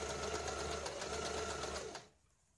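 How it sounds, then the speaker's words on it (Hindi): A sewing machine runs fast and steady, stitching a blouse lining in a continuous close whir, then stops and leaves near silence at the end. "ये तीनों भी हम सिलाई में लेके इसके ऊपर सिलाई लगाते हैं।"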